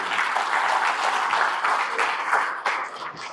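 An audience at a business members' meeting breaks into steady, loud applause that holds for several seconds, then tapers off slightly at the end.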